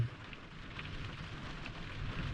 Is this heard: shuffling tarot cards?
no